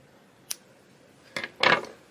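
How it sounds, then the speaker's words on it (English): Scissors snip white yarn during crochet work, one short click followed by a couple of quick closer cuts, crisp and isolated in a quiet room. "So we'll cut our white yarn because we're done working with it."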